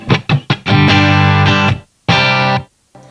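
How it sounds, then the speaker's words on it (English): Electric guitar through a Blackstar Amped 1 set to a clean, Fender-like American amp voice with reverb on, played as a few short picked notes, then sustained ringing chords that cut off, one more strummed chord, and a brief final hit, close and loud. "And we're gonna turn the reverb on."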